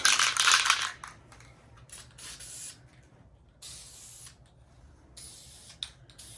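An aerosol can of lime green spray paint hisses in a loud close burst onto epoxy, followed by several shorter, fainter sprays with brief pauses between them.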